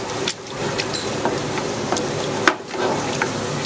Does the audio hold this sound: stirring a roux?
yes